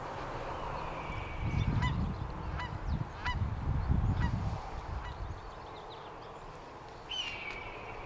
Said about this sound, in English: Wood ducks.